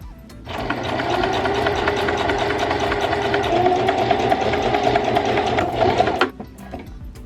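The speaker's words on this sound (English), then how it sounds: "we're just gonna sew this down or hemline this so that way you have a clean edge on the outside" A sewing machine hems a T-shirt dog bandana, its motor running in one continuous, close, even whir for about six seconds before stopping abruptly.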